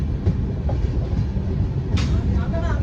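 The Howrah–Puri Superfast Express rumbles and clatters steadily as it pulls away from a station, with a faint metallic squeak partway through.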